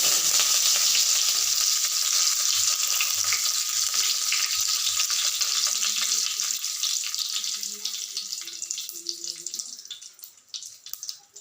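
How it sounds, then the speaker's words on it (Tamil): Mustard seeds and curry leaves sizzle loudly in hot oil while an egg fry is being cooked. The steady, crackling hiss stays strong and close before it gradually eases and thins out. "எண்ணெய் காஞ்சதும் லைட்டாக கடுகு போட்டு கடுகு போட்டதும் கருவேப்பிலை"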